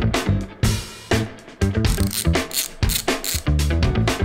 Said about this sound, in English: Now we're gonna quickly undo the brake lever.